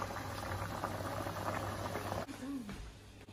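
Leek and potato soup boiling hard over a gas flame at full heat, a steady close bubbling and hiss that continues evenly, with a brief clatter near the end.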